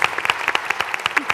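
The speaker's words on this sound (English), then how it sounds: "round of applause" Audience applause at a birthday executive talk, a steady burst of many hands clapping close by, loud and dense across the whole moment with no voices over it.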